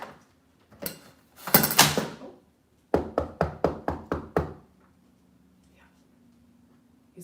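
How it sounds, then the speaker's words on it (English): A postman knocks on a door with a quick series of about six firm raps, coming after a few scattered thumps and a rustling clatter, then quiet with a low hum. "Uh-oh, he's probably gonna knock on the door."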